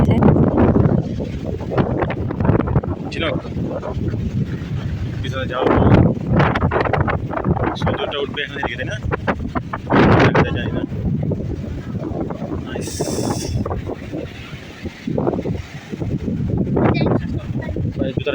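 Fresh morning sea wind at Kuakata beach buffets the microphone in loud, gusty rumbles, with people talking over it throughout.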